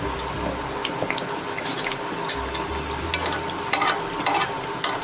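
A masala bread slice coated in besan frying in oil in a pan, a steady close hiss with scattered crackles and occasional utensil clicks, even and continuous throughout.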